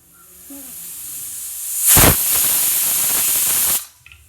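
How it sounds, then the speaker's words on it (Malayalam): Steam hisses loudly out of a pressure cooker used for cooking vegetables for sambar, a sharp burst swelling into a steady close hiss for about two seconds before cutting off abruptly. "കുക്കറിൽ നിന്നും ആവി പുറത്തു പോയി കഴിഞ്ഞാൽ മാത്രം മൂടി തുറന്നാൽ മതി ട്ടാ"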